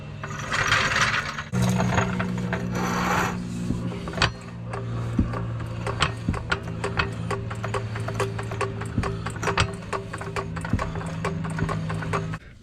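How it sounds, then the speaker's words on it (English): A car jack being ratcheted under a Chevy Vega sitting unused for 23 years: quick, regular metallic clicks repeating close by, with a steady mechanical clatter and no talk. "I get the jack under here"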